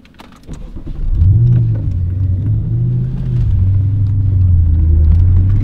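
An Audi RS4 B7 with a swapped engine pulls away on the autobahn, its deep engine rumble swelling and holding steady as the car accelerates, loud and close from inside the cabin.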